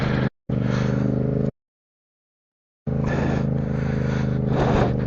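A Yamaha MT motorcycle ridden on a snowy road gives a loud, steady engine drone, broken by a short gap and a longer silence before the running sound resumes and swells slightly.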